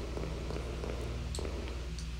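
House cat purring in a steady low rumble close to the listener, continuous and soft throughout.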